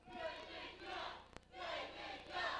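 Wrestling crowd at an NWA Wildside title match jeering at John Phoenix, a dense roar of many voices in two long swells with a brief lull between, heard from within the arena.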